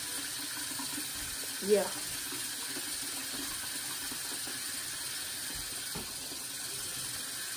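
Tap water runs steadily into a bathroom sink for face washing, a soft, even hiss that continues throughout, with one brief word spoken near the start.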